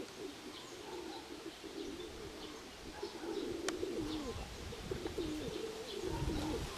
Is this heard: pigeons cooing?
yes